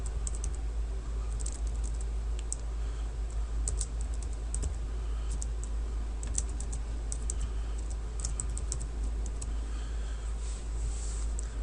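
Quiet, steady typing on a computer keyboard, soft key clicks running throughout over a low background hum.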